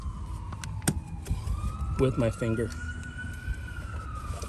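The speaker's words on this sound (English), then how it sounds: "Sorry for the sirens, guys." A siren wails outside, its steady rising-and-falling tone passing by a parked car during winter prep, with a person talking close by over it and some traffic rumble underneath.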